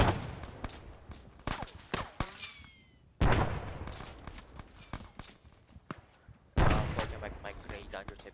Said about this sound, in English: Something exploded. I'm injured. Yeah, they're firing.